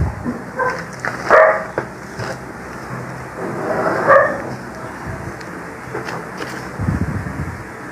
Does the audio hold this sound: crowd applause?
no